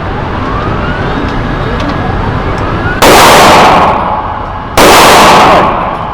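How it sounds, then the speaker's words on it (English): Two loud, sharp pistol shots from an STI Staccato C firing Federal HST 124 gr rounds at a 25-yard range, each cracking over a faint background hum and trailing off in a short decay. "shooting Federal HST 124s out of the Staccato C, 25 yards."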